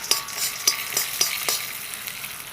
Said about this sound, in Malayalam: നമ്മുടെ ഈ നിലക്കടല ഒന്ന് റോസ്റ്റ് ചെയ്തെടുക്കാം.